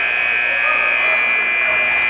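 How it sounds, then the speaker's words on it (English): A faulty scoreboard buzzer in a high school gym during a junior varsity basketball game holds a loud, continuous, harsh electronic tone that drones on without a break. "the buzzer is having a stroke, it seems"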